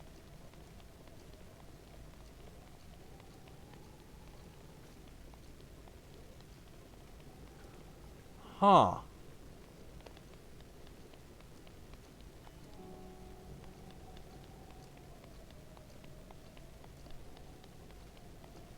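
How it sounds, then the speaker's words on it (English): Steady rain falls in the Nintendo Switch game The Legend of Zelda: Breath of the Wild, a soft continuous patter throughout, broken once by a short louder thud near the middle. "I always feel like it is raining so much in this game."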